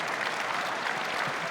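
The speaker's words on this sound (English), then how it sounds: "Let's clap it up for that" A large keynote audience at a business conference claps and applauds in a loud, even, sustained roar of hands, continuous throughout with no speech on top.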